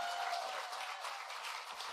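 Audience applause at a student debt relief event in Albuquerque, a steady wash of many hands clapping, moderately loud and sustained, with no voices over it.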